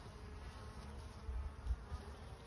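Honey bees buzz at a hive entrance in a spring bee yard, many of them returning with pollen, making a faint, continuous low hum with small swells close by.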